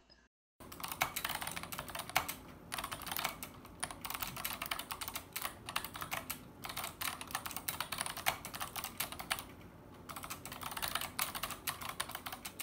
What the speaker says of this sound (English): this is my keyboard, the Racklam Ang Pro, with a sample typing test